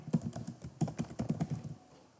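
Computer keyboard typing heard close up, a quick run of clicky keystrokes in short irregular bursts, ending in a quieter pause.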